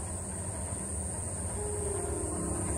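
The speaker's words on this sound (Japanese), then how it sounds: "さあ普通列車やってきましたけど" A local passenger train on the Kisei Line rumbles steadily past at a moderate distance, a low continuous roar with a faint tonal hum rising toward the end.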